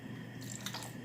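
Pimiento juice pours from a jar into a dish in a home kitchen, a brief soft liquid splash and trickle lasting under a second against steady low background hum.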